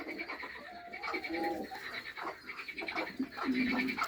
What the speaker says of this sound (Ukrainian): Голуби вилітають.